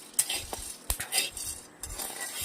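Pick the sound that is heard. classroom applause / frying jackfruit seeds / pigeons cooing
frying jackfruit seeds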